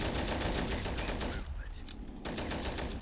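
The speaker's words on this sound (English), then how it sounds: "I'll fire this machine gun here. Getting a couple hits." A machine gun in Men of War: Assault Squad 2 fires in dense, continuous bursts with a brief lull in the middle, loud and close throughout.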